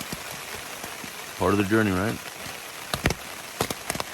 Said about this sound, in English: it's actually pretty strong rain